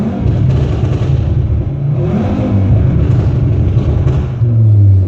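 Tuned Audi RS3 with a Stage 2 tune revving hard in neutral with the rev limiter removed, a loud continuous engine roar with repeated rising and falling revs and a deep bass swell near the end.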